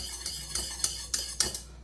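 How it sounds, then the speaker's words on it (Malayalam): A spoon stirs a thickening cornflour mango ice-cream mixture in a pot, giving a series of sharp metallic scrapes and clinks against the pot at an irregular rhythm, close up, with no talk. "ഇത് തുടർച്ചയായിട്ട് ഇതുപോലെ ഒന്ന് ഇളക്കി കൊടുക്കാട്ടോ"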